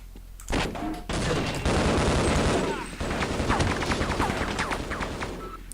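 Turrets rattle off bursts of automatic gunfire in a first-person shooter map, loud and close, the shots coming in rapid, continuous volleys that sometimes break off and restart.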